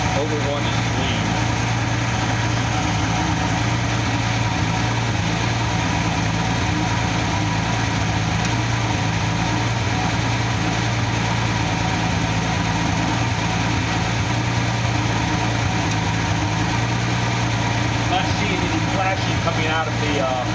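A 1988 Nissan 300ZX turbo, California automatic version, idles while warming up and running rich, giving a steady, close, low droning hum with constant vibration throughout.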